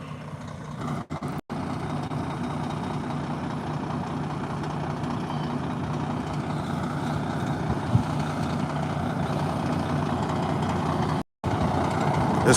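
A Freightliner truck engine idling steadily as it warms up on a cold morning, a continuous low rumbling drone heard close by with a couple of brief dropouts.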